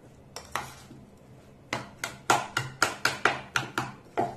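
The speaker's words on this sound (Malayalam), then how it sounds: "ഇനി ഇത് നല്ലതുപോലെ അങ്ങോട്ട് മിക്സ് ചെയ്യാം" A spoon scrapes and clanks against a bowl in a steady series of sharp strokes while a pickle mix with chili powder and vinegar is stirred, starting with a few scattered knocks and then settling into a regular beat.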